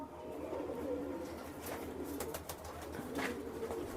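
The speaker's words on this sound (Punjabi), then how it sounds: "ਇਹ ਗ੍ਰੀਨ ਅੱਖਾਂ ਵਾਲੇ ਕਬੂਤਰ ਨੇ" Green-eyed pigeons kept as domestic birds coo in soft, repeated low calls over a steady background murmur, with a few brief sharper bird sounds mixed in.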